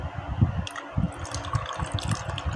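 Water runs from a tap into a cup used for painting, a steady splashing flow with small gurgling pulses at a close, moderate level and no voices.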